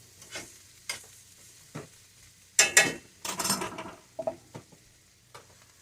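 Brussels sprouts browning and charring in a pan give a soft sizzle, broken by scattered stirring scrapes and clinks of a utensil against the pan, heard close and fairly quiet.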